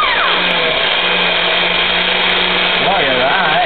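A kitchen blender whirs loudly and steadily as it mixes a green juice smoothie made for children, holding one continuous motor roar up close while voices talk faintly over it.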